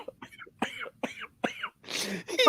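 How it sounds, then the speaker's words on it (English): A person coughs in a series of sharp, close bursts, about five quick coughs with short gaps, ending in a rougher throat-clearing rasp. "I got the Rona cough on that one."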